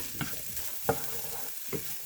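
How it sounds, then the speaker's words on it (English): Poblano and onion fry gently in a pan, a soft steady sizzle interrupted by three distinct stirring scrapes spaced out over a couple of seconds. "We're just going to let this fry up just a little bit. And now we're going to stir it all in."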